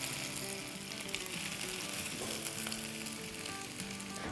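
Thick sauce bubbling and sizzling in a pan of nawabi boti kabab, a steady, dense crackle that runs on without a break and with no voices.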